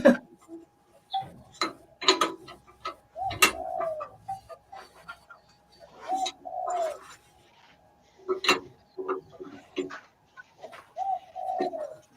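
Pigeons on a small farm coo in a steady series of soft, low, rolling calls spread across the stretch, close and fairly quiet, with occasional clicks and faint ticking between them and quiet voices in places.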